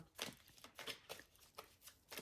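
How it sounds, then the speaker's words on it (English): A tarot card deck is shuffled close by in a quiet room: several soft, papery riffles in quick bursts, faint and alone. "I got to break this deck with the tarot I'm using just to be able to shuffle the way that I want to shuffle"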